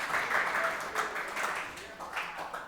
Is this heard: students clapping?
yes